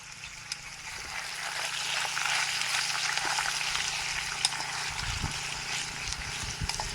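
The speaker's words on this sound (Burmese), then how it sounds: "ကဲကြော်နေပါပြီခင်ဗျာ" Food frying in a pan at a roadside stop, a steady close sizzle and crackle running throughout with a few faint knocks near the end, no voices.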